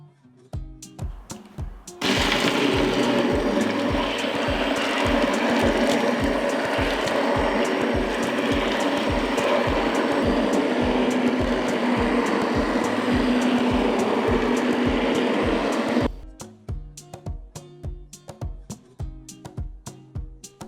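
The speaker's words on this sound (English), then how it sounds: "I will chop the plums with a stick mixer." A stick mixer chops cooked plums for homemade plum jam: a loud, steady, whirring blend runs for about fourteen seconds. Rapid rhythmic ticking comes before and after it.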